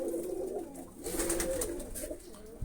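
Pigeons cooing in a loft, several soft throaty coos rolling one after another, fairly close and steady, with faint background rustle and no talking.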